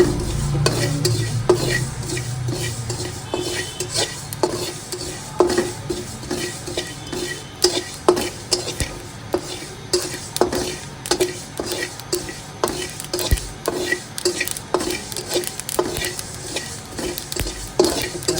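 Potatoes frying and being stirred in a pan, with a steady sizzle under repeated scraping and clinking of a utensil against the metal, continuous and close throughout.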